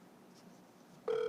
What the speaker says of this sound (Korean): 전화 연결을 좀 해보도록 하겠습니다